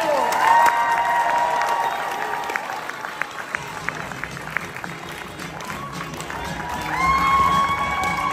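Applause and cheering from an audience at a school talent show stage, with sustained tonal whistling or cheering voices over scattered clapping that rises again near the end.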